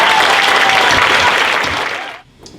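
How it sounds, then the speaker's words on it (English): Loud, dense applause from a crowd at a chamber of commerce awards celebration honoring Hispanic business leaders, holding steady for about two seconds before fading quickly to quiet. "a round of applause for my dear friend"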